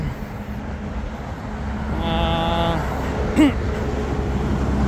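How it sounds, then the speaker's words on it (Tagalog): A cargo train rumbles past below a bridge outdoors amid steady road noise, with a brief horn-like tone and a short knock standing out over the continuous roar. "Cargo train."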